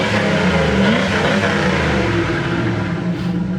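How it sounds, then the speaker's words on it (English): A throaty V8 engine of a 1977 Chevy Camaro rumbles loudly through a dual exhaust, a thick low drone with slight swells in revs and no talking. "Good sounding dual exhaust."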